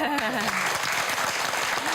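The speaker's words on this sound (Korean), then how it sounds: "좋았다 생각하시고 박수 한번." Audience applause at a talk-show style conversation event with a painter, a dense continuous clapping wash heard under a speaking voice.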